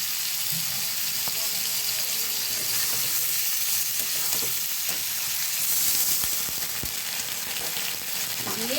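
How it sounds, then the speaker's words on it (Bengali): Garlic frying in oil in a pan for bean-leaf paturi gives a loud, dense, continuous sizzle close up, with occasional soft stirring scrapes and no speech. "রসুন টসুনগুলো ভাজা হয়ে গেছে"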